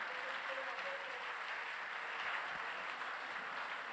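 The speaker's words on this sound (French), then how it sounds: "Joignons nos mains, acclamons le Seigneur." A church congregation applauds together during a worship service, a dense, steady wash of many hands clapping that holds evenly for the whole span without pause.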